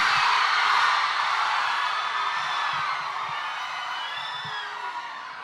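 A large crowd roars and yells continuously at a film song launch event, loud and sustained, slowly fading slightly over several seconds.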